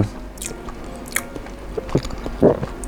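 Someone chewing very spicy Malaysian instant noodles close to the mic, with wet slurps and squishy bites at uneven moments and a louder mouthful near the end over a quiet background.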